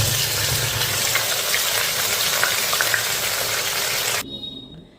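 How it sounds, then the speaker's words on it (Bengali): Pointed gourd (potol) pieces fry in a pan with a steady, dense hissing sizzle that holds for about four seconds before dropping away sharply to near silence. "প্রথমে আমি চুলাটা জ্বালিয়ে পটলগুলো ভেজে নেব।"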